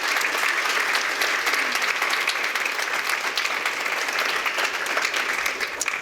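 Audience applause fills a civic State of the City address, a dense, steady clapping from a large crowd that holds loud and even for the whole stretch.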